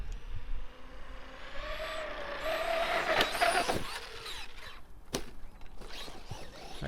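A Traxxas Maxx V2 RC truck speeds across snow and hits a snowbank, its electric motor whining up in pitch. Sharp thuds and crunches follow the impact, all outdoors with no talking.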